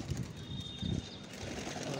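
Pigeons being released outdoors give soft cooing and a flurry of wing flaps, close and fairly quiet over a steady background hiss.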